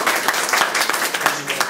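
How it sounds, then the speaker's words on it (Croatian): Dense audience applause greets a municipal head visiting Đurđevac at an art workshop event, steady broadband clapping filling the whole stretch at close range. "Ja molim da ga pozdravite pljeskom."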